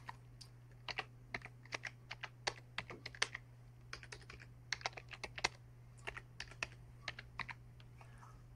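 Keys clack on a computer keyboard while a password is entered, with quick irregular bursts of taps and short pauses, close and fairly quiet over a steady low hum, with no talking.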